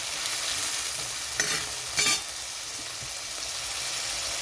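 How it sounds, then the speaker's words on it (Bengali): Shrimp lightly frying in a pan, a steady close sizzle throughout with two brief louder stirring scrapes partway through, and no voices. "চিংড়ি মাছটা যখন রান্না করবেন এবার হালকা ভেজে নেবেন"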